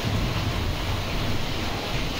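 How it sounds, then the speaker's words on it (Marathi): Heavy rain pours outside during a thunderstorm, a steady, loud, broadband wash of falling water with a low rumble underneath, continuous throughout with no voices. "असा भला जोरात आवाज चालू आहे बाहेर पाण्याचा."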